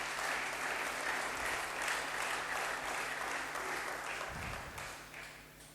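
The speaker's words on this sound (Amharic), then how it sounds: "አጨብጭቡለትና ለሱ" A church congregation applauds with dense, sustained clapping that holds steady for several seconds and then begins to fade toward the end.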